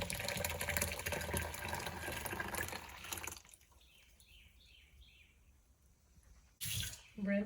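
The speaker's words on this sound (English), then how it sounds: "Rinse, a quick rinse of my pan." A cooking pan gets a quick rinse under running tap water in a kitchen sink, a steady close rush of water that stops abruptly, followed by quiet dripping and a short splash at the end.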